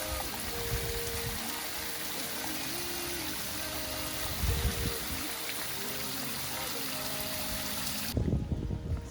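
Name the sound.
water shooting out of both ends of a hose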